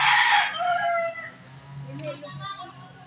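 A rooster crows loudly up close on a farm, a single drawn-out call followed by softer clucking from nearby chickens.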